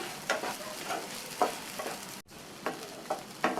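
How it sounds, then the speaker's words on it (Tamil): Soaked sago pearls stirred in a pan over a medium flame, with soft scraping strokes at an irregular rhythm over a low continuous sizzle. "மீடியம் ஃப்ளேம்லேயே வச்சு ஒரு 2 நிமிஷத்துக்கு நல்லா இந்த மாதிரி கலந்து கொடுக்கணும்."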